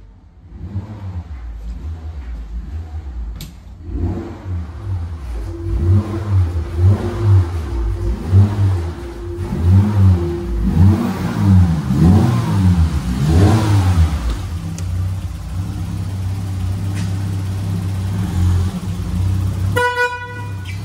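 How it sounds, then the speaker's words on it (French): A 1996 Peugeot 106 Rallye starts and idles with a low, steady rumble, rising and falling in a few revs through the middle before settling. A short horn-like toot sounds near the end. "c'est la voiture, elle klaxonne et démarre toute seule"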